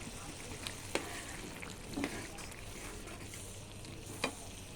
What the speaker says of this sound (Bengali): মাছগুলো এক এক করে দিয়ে দিলাম।